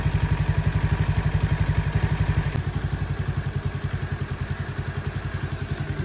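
A CT70 clone engine with a Nibbi carburetor idling after adjustment, not fully warmed up, a steady, even loping putter with regular beats, close and loud, dropping slightly in pitch partway.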